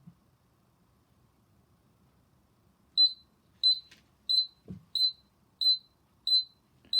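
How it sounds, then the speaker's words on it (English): Seven short, high electronic beeps pulse at an even rhythm, with a soft thump partway through and near-silence before they begin. "we've got a buzzer here"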